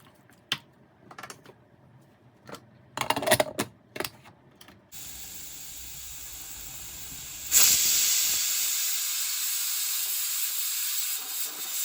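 Pressure cooker cooking dal with beetroot leaves lets off its whistle, a loud sustained steamy hiss that begins midway and swells into a sharp jet, after a stretch of scattered clicks and knocks.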